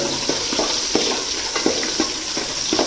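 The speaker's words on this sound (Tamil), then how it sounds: "எண்ணெய் ஊற்றிட்டு வெங்காயத்தை போட்டுட்டு நல்லா பொன்னிறமாக வணக்கணும்." Onions fry in oil in a pan for chicken gravy, giving a steady close sizzle with soft stirring scrapes at an irregular rhythm and no talk.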